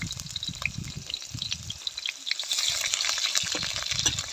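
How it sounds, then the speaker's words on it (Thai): Curry paste and fresh chili frying in a pan give a steady close sizzle that swells louder partway through, with occasional stirring scrapes and clicks and no talk. "ใส่พริกแกงลงไปเลยค่ะทุกคน ใส่พริกแกงแล้วก็พริกสดนะคะ"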